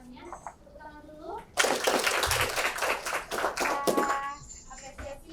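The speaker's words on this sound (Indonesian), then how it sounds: "Tepuk tangan dulu." Schoolchildren in a classroom clap together in a sudden burst of brisk, close hand claps lasting a few seconds, with a voice speaking before the clapping and children's voices around it.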